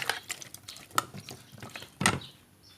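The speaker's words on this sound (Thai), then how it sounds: "แล้วก็คนกัน" A spoon clinks and scrapes against a bowl while stirring a lime juice and fish sauce dressing, giving a few quiet taps and brief swishes with one sharper knock near the end.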